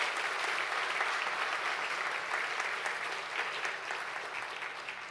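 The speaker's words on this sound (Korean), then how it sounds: "큰 박수 부탁드리겠습니다" Steady applause from an audience at Handong Global University's presidential inauguration ceremony, a uniform rush of many hands clapping that slowly tapers toward the end.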